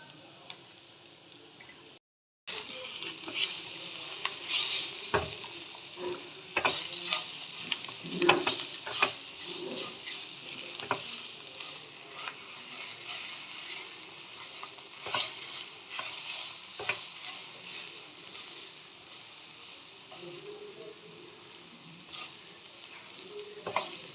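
Potato, paneer and egg vegetable curry with grated carrot is stirred and fried in a pan over a medium flame. A steady close sizzle runs throughout, broken by repeated scraping ticks and clicks of the spoon, with no talking.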